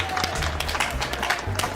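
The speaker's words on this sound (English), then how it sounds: "A round of applause to her." A classroom of children gives a round of applause, a brief dense burst of many small hands clapping together, fairly close and busy with scattered shuffling.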